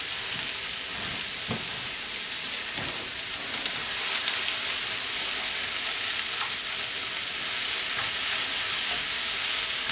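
Vegetables for Boston chili fry in hot oil in a pan, giving a steady, broadband sizzle that runs evenly throughout, close and moderately loud, with a few faint clinks and stirring sounds.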